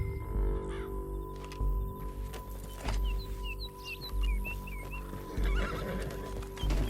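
A horse in Red Dead Redemption 2 neighs and whinnies while hooves clip-clop steadily, with birds cawing faintly in the background.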